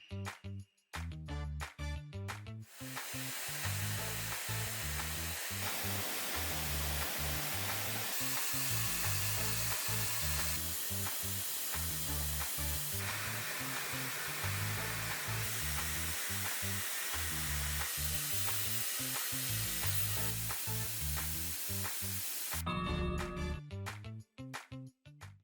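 A steady, loud hiss of rushing air from a BLDC-motor hair dryer during a noise test runs alone for about twenty seconds, starting and stopping abruptly, with music before and after.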